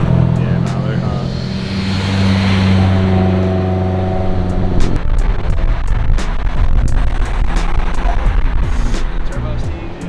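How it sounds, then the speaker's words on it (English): Turbocharged engine in a Nissan S-chassis S15 revs loudly up close, with a steady rising drone and rough mechanical noise throughout, while people talk over it. "I heard it making those juicy turbo noises."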